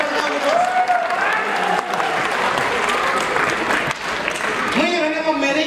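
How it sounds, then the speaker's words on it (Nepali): An audience at a Nepali stand-up comedy show in Japan applauds steadily throughout, with a voice speaking over the clapping. "विद्वान दर्शकले आफै ताली।"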